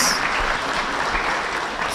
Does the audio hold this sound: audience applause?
yes